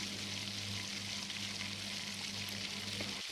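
Whole spices — garam masala, bay leaf, cardamom, cinnamon — sizzle quietly in hot oil for a beef curry, a steady, soft crackling hiss with a low hum beneath.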